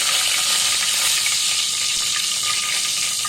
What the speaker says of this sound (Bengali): এরপরে আমি 2 চামচ মাখন দিলাম। এখানে আমি 5 ফোড়ন দিলাম, কারি পাতা দিলাম